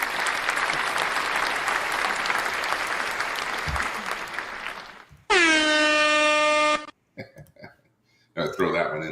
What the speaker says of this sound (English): give a round of applause to Attorney Zandrea Ware